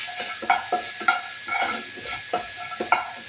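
Ginger paste frying in melted butter with cumin seeds in a pan, a soft sizzle under repeated scraping strokes of a spoon stirring at a steady rhythm, close by and with no talking.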